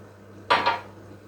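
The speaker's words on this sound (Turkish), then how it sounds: "Yavaşça karıştırıyorum." A spoon knocks and clatters briefly against a pot while milk, sugar and cocoa are stirred together into a sauce for a chocolate cake. One short, close burst of clinking with a quick second touch, then near silence.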